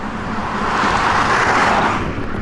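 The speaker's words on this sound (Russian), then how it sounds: "Машина поворачивает" A car on a rural road near Tatar villages around Mamadysh in Tatarstan, heard as a steady, fairly loud broadband engine and tyre rush that swells slightly and holds for a couple of seconds, with no talking.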